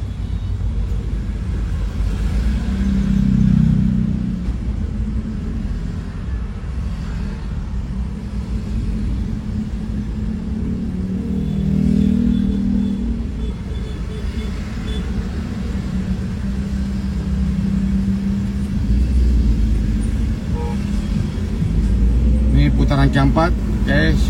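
Slow traffic jam on the road from Jembatan Kembar toward Sultan Hasanuddin Airport, heard as a steady low rumble of car and bus engines from inside a vehicle, with occasional swells and no talking.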